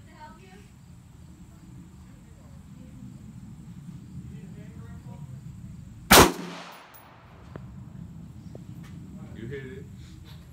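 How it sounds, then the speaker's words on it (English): A single sharp, loud gunshot cracks out midway through, fired outdoors at a fake bulletproof vest during a test, with low ambient noise before and after. "Three shots."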